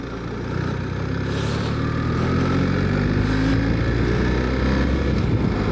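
A motorcycle engine drones steadily on a ride to the dealership, a constant low rumble mixed with heavy wind buffeting at the microphone, no speech.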